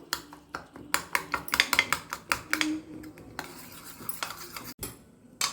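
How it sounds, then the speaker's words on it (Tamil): A spoon stirs vegetable egg dosa batter in a bowl, a run of quick rhythmic clinks and scrapes against the bowl, fairly close, with no talk. "இப்போ இதை நல்லா மிக்ஸ் பண்ணிக்கிடணும்"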